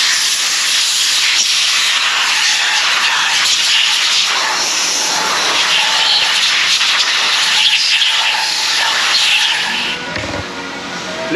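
Recycled parts from a 2007 Dodge Cruiser 2.4 are blasted clean of dirt with a loud, continuous high-pressure hissing spray. It runs close and unbroken for most of the span, then dips briefly near the end.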